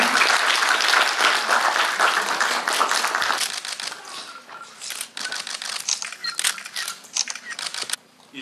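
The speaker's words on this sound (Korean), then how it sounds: "여러분 다시 한번 큰 박수 부탁드리겠습니다" A loud round of applause from an award ceremony audience, dense at first and then breaking into scattered, thinning claps with a few camera-like clicks, fading near the end.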